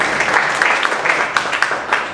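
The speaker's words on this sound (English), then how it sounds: "you can clap for it, sure." Audience applause at a talk on cartooning and animation, a moderate burst of many hands clapping, fairly loud and even for about two seconds.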